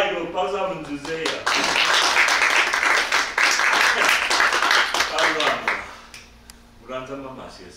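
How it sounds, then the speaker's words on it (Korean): Audience applause at a Korean mono music-theatre performance, a dense burst of clapping that swells quickly, holds steady for several seconds, then fades as a voice speaks briefly before and after. "아이고 박수 한번 주세요."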